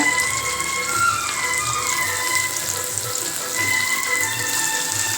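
Ginger and onion sautéing in an oiled pan while preparing a Tamil pirandai soup, giving a steady, close frying crackle with soft watery hissing that runs evenly throughout.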